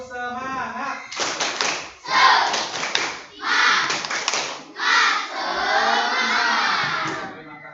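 A class of fourth-grade schoolchildren at an elementary school does the tepuk semangat clapping chant, with loud rhythmic bursts of group clapping and shouted chanting in a close, echoing room, led by a teacher's voice.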